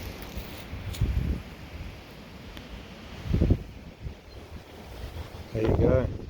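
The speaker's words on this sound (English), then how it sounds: "Might be a little windy here." Wind buffets the microphone in a few low, rumbling bursts against a steady outdoor hiss at sunset on the Arizona Trail.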